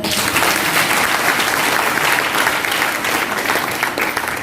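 Loud, sustained applause from a seminar audience in Chhapra, dense steady clapping filling the whole stretch without a break.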